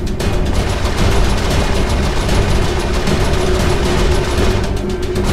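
Sustained heavy turret gunfire in Saints Row IV, aimed at pursuing ships: a dense, continuous roar of rapid shots and booms, loud and close, running the whole time with no talking.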